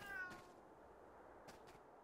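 A cat meows once, short and rising, in the video game Fantasian, followed by faint soft game sounds over quiet background hiss.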